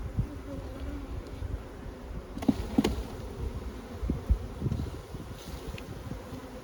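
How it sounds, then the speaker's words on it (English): A steady, dense buzz of many honeybees being shaken off a hive frame fills the clip, with a few soft knocks and bumps underneath. "I'm going to shake all the bees off it."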